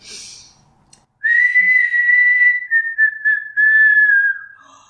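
Someone whistles a tune up close, starting loud and sustained, then breaking into a few short wavering notes before a final held tone, all alone without talking.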